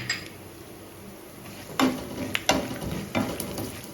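Nuts such as pistachios and cashews stirred through rava laddu mix in a pan, with soft scraping and a few sharper clinks of a spoon against the metal.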